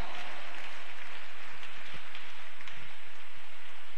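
A church congregation claps during a Wednesday prayer service, making a dense, even patter of hands that sounds almost like rain and fills the whole stretch without speech.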